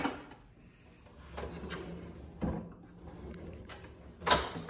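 Kitchen drawers in a rental apartment in Lisbon slide open and shut, giving a few soft scraping slides and a sharper knock near the end, close by in a quiet room.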